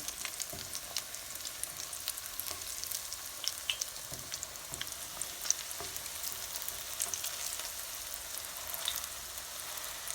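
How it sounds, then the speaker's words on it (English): Salmon croquettes fry in a pan with a continuous soft sizzle and crackle, with light scattered pops throughout, fairly quiet and without voices. "they cooked about a good 3 minutes on that side. Now I'm going to go ahead and flip them over"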